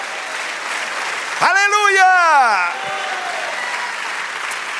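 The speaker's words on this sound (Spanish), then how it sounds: "Dale aplauso." A church congregation applauds steadily through a Spanish-language worship service, a broad wash of clapping that continues throughout while one voice rises briefly above it, calling out in a drawn, sung exclamation near the middle.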